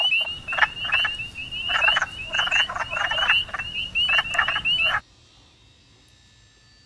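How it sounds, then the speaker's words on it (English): Spring peepers and wood frogs call in a dense outdoor chorus, shrill repeated peeps over clucking croaks, steady and loud for about five seconds before cutting to near silence. "heard wood frogs and spring peepers"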